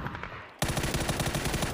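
Rapid automatic gunfire in a PUBG esports tournament match, loud rhythmic bursts that start abruptly after a quieter stretch and continue steadily, with no voices over them.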